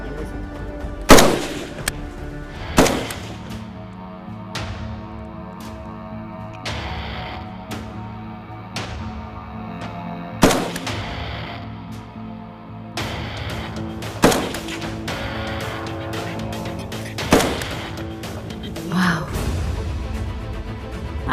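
Soldiers training with the Bihar Regiment fire guns in single loud, sharp shots spaced a few seconds apart, each ringing and echoing outdoors, while people talk quietly in between.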